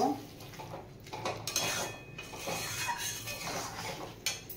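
White sauce pasta stirred in a pan after black salt is added, giving soft scraping and clinking of a utensil against the pan, quiet and close, with no talk.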